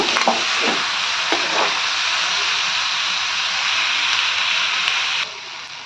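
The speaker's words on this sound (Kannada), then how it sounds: "ಈಗ ಸ್ವಲ್ಪ ಆಯಿಲಲ್ಲಿ ಫ್ರೈ ಆಗಲಿ ಸಾಕು ಅಷ್ಟೇ" A boiled filling for lunchbox rolls fries in oil, giving a loud, constant, close sizzling hiss with a few light scraping stirs early on. The hiss drops slightly just before the end.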